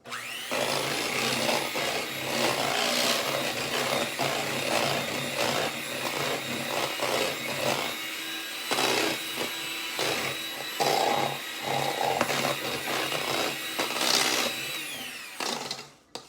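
Vanilla pudding filling for a no-bake banana cream pie being stirred and scraped around a bowl: continuous close, loud rubbing and scraping in uneven strokes, with no talking.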